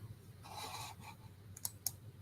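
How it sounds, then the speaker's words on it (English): Several soft keystrokes on a computer keyboard, a muffled run of taps followed by two sharper isolated clicks, quiet and close over a low steady hum with no talk. "He might be typing."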